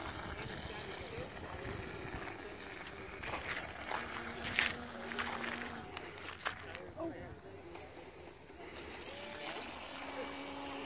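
A radio-controlled boat's small motor whines with a thin, wavering tone amid outdoor noise and wind at a float-fly event, while people talk over it.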